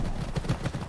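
Galloping horse hooves from the PC game Horse Club Adventures 2: Hazelwood Stories, a steady clip-clop rhythm of soft, fairly close hoof beats repeating about every fifth of a second.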